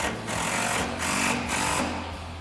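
A power tool drives a bolt on the rear bumper of a 2019-2024 Chevrolet Silverado 1500, a loud, close, buzzing whir in short pulsing bursts with brief pauses between them.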